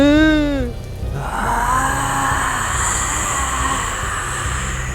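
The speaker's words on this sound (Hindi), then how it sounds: "गरज चमक के साथ बारिश बहुत तेज हो रही थी।" Heavy rain pours in a steady, dense hiss throughout a horror story scene, opening with a brief wavering tonal wail before the downpour takes over.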